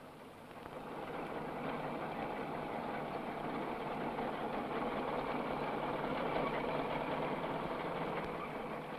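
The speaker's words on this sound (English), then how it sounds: "Now, tractors usually do the work, and the language of their drivers is lost behind the sound of the motors" A tractor engine hauling timber logs through rough, hilly timber country drones loudly and steadily from start to finish, a dense, unbroken motor roar with no voices.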